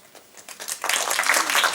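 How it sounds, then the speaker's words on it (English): An audience applauding at a lecture event, the clapping swelling from scattered claps into steady, dense applause that fills the hall. "It's fantastic to get a clap before actually speaking"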